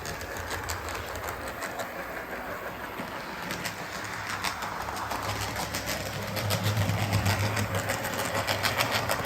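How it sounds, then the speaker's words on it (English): Model train locomotive in need of a clean, running steadily with a rapid rhythmic flapping, fluttering mechanical chatter that grows a little louder toward the end, close by with no voices. "Bit of a flappy sound going on there, just needs a clean."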